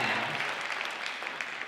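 Applause from a school jazz band concert audience, a steady, fairly loud wash of clapping that carries through the short stretch without a break.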